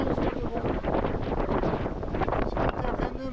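Heavy wind of about 15 knots roars steadily across the microphone aboard a sailboat in mid-ocean, broadband and buffeting, with a rushing, splashy wash like spray or water beneath it and no pauses.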